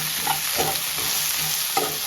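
A spoon stirs ridge gourd with salt in a frying pan, giving a close, loud sizzle with several soft scraping strokes and no talking.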